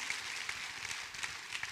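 A church congregation applauds its volunteers, a soft, steady wash of distant clapping that fills the space with no voices over it.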